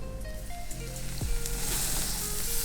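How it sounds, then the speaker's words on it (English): Milk goes into a hot butter and flour roux and a steady sizzle rises, with a light scrape of stirring partway through. No one speaks. "So flour is cooked, and next I'll add milk."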